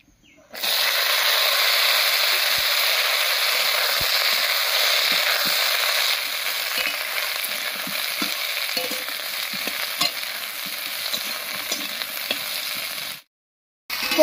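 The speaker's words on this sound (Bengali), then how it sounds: "ফোড়নের উপরে ঝিঙেটা দিয়ে একটু নাড়িয়ে নিয়েছি।" Ridge gourd pieces fry in hot oil tempered with dried chilli, bay leaves and kalo jeera, sizzling loudly and steadily at close range. Occasional scraping clinks of the stirring spoon sound through the hiss, which stops abruptly near the end.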